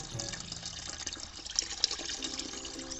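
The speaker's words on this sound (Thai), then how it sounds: "นี่ครับน้ำก็จะออกมา" Water running steadily out of a guppy aquarium through a siphon hose during a water change, a continuous soft gurgling trickle with small splashes, close by.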